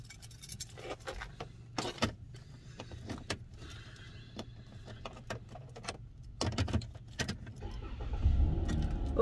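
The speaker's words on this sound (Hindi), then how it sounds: "गाड़ी मैंने स्टार्ट कर ली है" A car engine starts after keys jangle, with scattered clicks and rustles before the motor catches and a low rumble builds and holds over the last couple of seconds.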